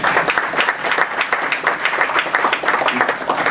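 Audience applause at a breakfast event, steady dense clapping from a roomful of people, continuous and fairly loud throughout.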